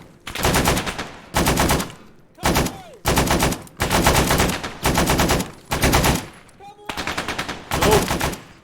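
Automatic gunfire rattles out loud and close in Arma 3 during SEAL training, coming in repeated bursts about a second long with short gaps between them.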